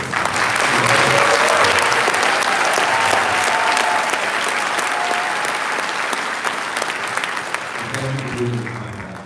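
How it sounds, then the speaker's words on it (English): A town hall audience in a room in Saratoga Springs applauds a congressman, sustained dense clapping from many people that holds steady for about nine seconds and tapers slightly at the end. "everybody in this room should applaud Congressman Tonko for almost 50 years of public service"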